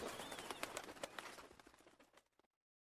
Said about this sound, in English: Birds in the rainforest canopy took to the sky, eager to be away from the violence that was to come.